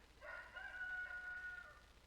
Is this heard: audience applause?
no